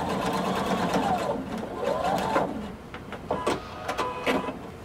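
A sewing machine runs a 5/8-inch seam across a blazer shoulder and lining, its motor whirring in uneven bursts that speed up, slow and stop with short rattling stitches up close.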